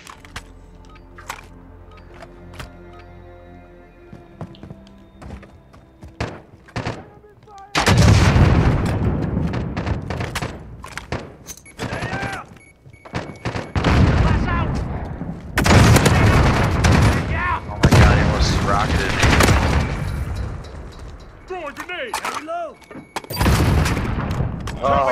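Gunfire in a Call of Duty Modern Warfare gunfight: quiet sparse shots at first, then heavy bursts of loud rapid firing and booming blasts in several clusters, with players talking at times over the shooting.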